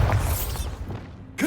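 Bombarda blasting spell in Hogwarts Legacy going off as a loud, booming burst at the start, with crackling debris and rumble fading out and a fresh burst right at the end.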